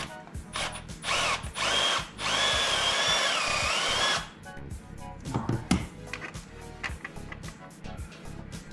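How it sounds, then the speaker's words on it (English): An electric drill enlarging a hole whirs in short bursts, then runs steadily for several seconds before stopping, followed by scattered clicks and handling noises close by. "I'm gonna finish drilling this out."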